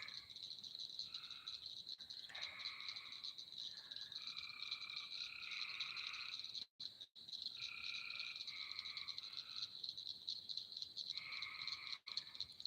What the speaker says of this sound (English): Yeah, I can hear the frogs.